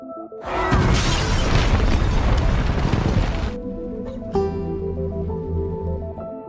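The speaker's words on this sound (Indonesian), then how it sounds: "dia akan meledakkan tempat ini bersama para zombie" A building blows up with zombies inside in The Last of Us video game: a loud, dense roaring blast lasting about three seconds, followed by booming rumble and a swelling musical score.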